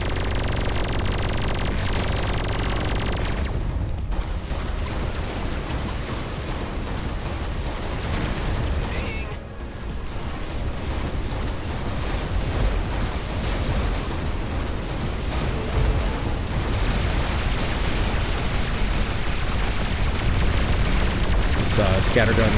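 Missiles being shot down in the space combat game Everspace 2, a dense, continuous barrage of loud blasts and gunfire-like bursts with rumbling explosions throughout, mixed with a voice talking over it.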